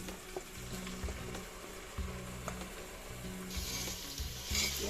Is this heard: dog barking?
no